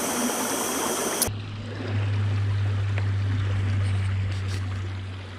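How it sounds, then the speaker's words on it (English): A river runs through a moorland valley with a steady, close broadband rush of flowing water, joined partway by a low continuous hum. "Nice valley, we've got the river running through"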